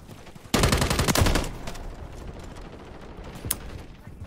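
Automatic gunfire from a gun in the video game Modern Warfare 3: a loud burst of rapid shots for about a second, then quieter background action and one more sharp report.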